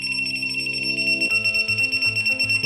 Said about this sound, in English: it will immediately put out a piercing alarm that will notify you that that door has been opened.